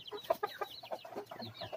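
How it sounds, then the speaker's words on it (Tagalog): Several Rhode Island chickens cluck in quick, overlapping bursts nearby in a coop, a busy chatter of short calls with no one talking. "Yung rooster ko dito na nakakulong is Rhode Island po yan."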